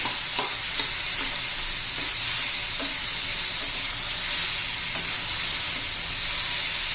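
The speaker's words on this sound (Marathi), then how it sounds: "अजून एखादा दोन मिनटं मी परतून घेते" Steady sizzling of ridge gourd frying in a pan, with occasional soft scrapes and stirs against the metal, close and continuous.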